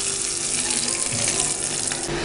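Water poured into a cooking pot holding turmeric and crushed red chilli, a steady close splashing stream lasting the whole moment with no talk over it.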